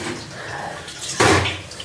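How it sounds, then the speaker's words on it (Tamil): Water is poured while making a milkshake, a sudden louder splashing gush arriving partway through after quieter background noise. "தண்ணி ஊற்று"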